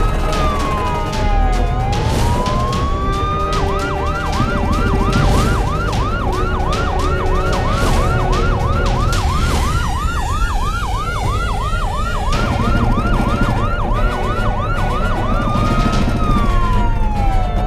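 A police car siren wails loudly and near during a chase, cycling through rapid yelp sweeps between slower rising and falling tones, over road and engine noise.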